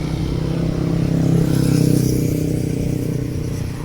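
A motorcycle engine hums past on a busy street in Malaysia, a steady mid-loud drone that swells and fades slightly, with no talk over it.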